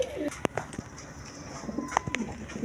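A Gorra cock and Basiraj Koka hen pigeon coo softly in a loft, a few short calls with sharp clicks and rustles, fairly close and quiet.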